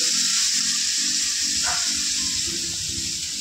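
Meat sizzles in a pan as it cooks, a steady bright hiss throughout with a brief crackle partway and low kitchen clatter beneath.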